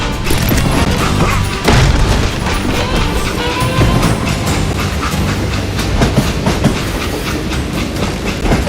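Train in the Western shooter game Call of Juarez: Gunslinger rumbles and clatters continuously and loudly, with rhythmic clickety-clack and mechanical booms throughout.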